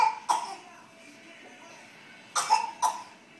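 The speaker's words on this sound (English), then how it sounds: "Why are you coughing?" A child coughs indoors: one sharp cough, a pause, then two quick coughs close together, near and clear over a quiet room.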